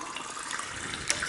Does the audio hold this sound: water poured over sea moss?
yes